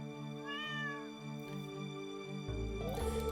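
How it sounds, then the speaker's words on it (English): Cat meowing in the game Stardew Valley, a clear drawn-out meow near the start followed by a second, more strained meow against a steady musical background, no talk. "You see this cat here?"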